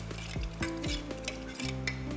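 A ground coconut, red chilli and turmeric paste being stirred into Goan ambade sasav, a sweet-sour hog plum curry, in a pan: a few scraping spoon strokes and soft clinks against the vessel over a low simmering hiss, close and alone.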